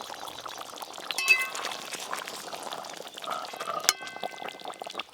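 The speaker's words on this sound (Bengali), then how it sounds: "দই কাতলা রান্না হয়ে গেল, আরও স্বাদ ভালো আনার জন্য ওপর দিয়ে একটু ঘি দিয়ে দেবো" Ghee poured over a finished doi katla fish curry in a pot, soft liquid trickling with light clinks of a utensil and a faint simmer, close by and without talk.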